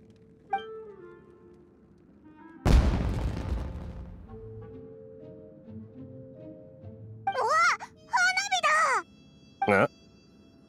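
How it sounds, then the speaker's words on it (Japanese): A single loud boom goes off mid-scene in Genshin Impact, set in Inazuma, with a sharp onset and a long rumbling decay; quiet ambience surrounds it, and characters speak afterward. "あそこで何か爆発したぞ"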